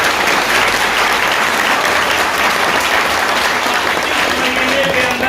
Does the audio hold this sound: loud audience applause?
yes